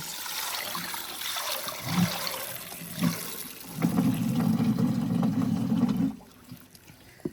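Water trickles and drains steadily through a sieve from washed wheat for a couple of seconds, then cuts off, leaving quiet room noise.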